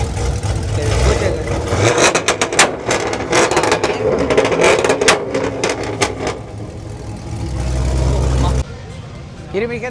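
Car engine revving at a large Texas car meet, identified as a Honda Type R, rising bursts mixed with crowd noise and nearby chatter, voices talking over it, ending with a steadier idling drone.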